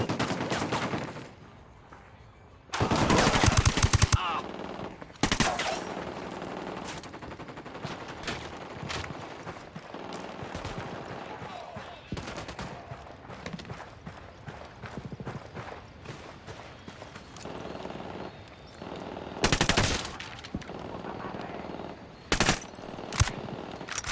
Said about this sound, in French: On est en train de se faire sniper.